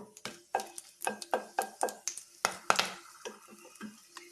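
A cardamom pod, a small piece of cinnamon and four cloves fry lightly in a pan, heard as a close series of rhythmic scraping and stirring strokes against the metal over a faint sizzle.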